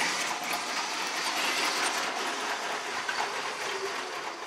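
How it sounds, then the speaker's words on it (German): A Lego City 9V toy train rolls steadily along plastic track, giving a continuous soft clattering whir of wheels and motor that stays even throughout, with no talking. "Richtige Eisenbahnromantik hier bei Rita."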